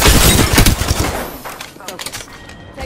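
Gunfire in an Apex Legends ranked match: rapid bursts of close, loud shots packed together, then sparser scattered cracks and impacts as the firing thins out, with game voice lines over it.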